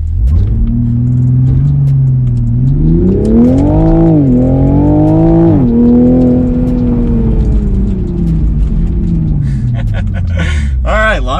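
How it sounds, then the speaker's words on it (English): A Toyota A90 Supra's engine revs and holds on launch control, then roars hard as the car launches and accelerates, loud and close throughout. "So foot on the brake and flooring it."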